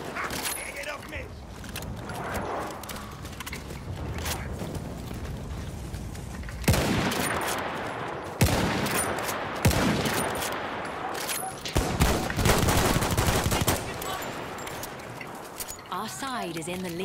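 Heavy Battlefield 1 combat gunfire, with dense bursts and volleys layered over a constant battle din and several sharp, loud impacts. Players talk over the shooting.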